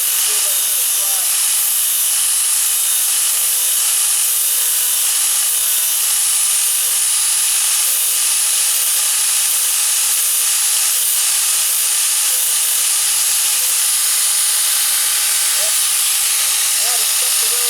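Flux core welder laying a bead on a rocker panel patch of a 1998 Ford Ranger 4x4. It makes a loud, steady, crackling hiss that runs unbroken and close up.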